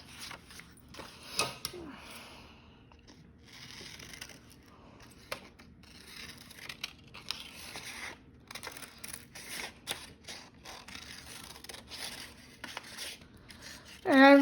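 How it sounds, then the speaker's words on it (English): Scissors snip through green paper in short, scattered cuts, close and fairly quiet, with rustling and handling of the sheet between the snips and a loud bump at the very end. "bend it over in half and just cut half of it"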